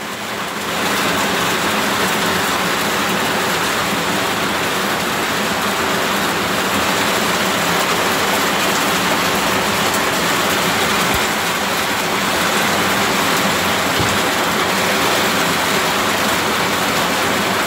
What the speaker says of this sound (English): Look at that rain, guys. It's coming down hard.